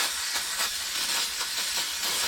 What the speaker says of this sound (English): I'm going to use a little carb cleaner